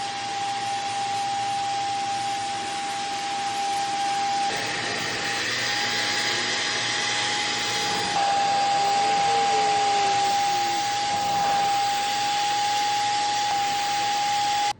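Steady whirring vacuum cleaner running throughout, a constant motor whine with broadband suction noise, close and fairly loud, with a brief pitch shift partway.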